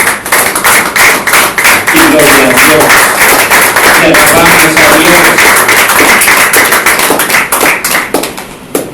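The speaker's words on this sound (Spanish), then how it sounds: "Yo quiero que usted le dé a Dios un aplauso." A church congregation applauds steadily and loudly throughout, a dense wash of clapping that runs under a preacher's voice speaking in Spanish.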